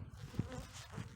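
Honeybees buzzing agitated around an open hive with a queen cell being inspected, a steady low insect drone with brief louder passes close by, no talking.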